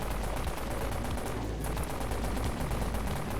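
Sustained automatic fire from a machine gun in the Dead Frontier video game, dense rapid shots blurring into a loud continuous roar with a brief dip midway, close and alone.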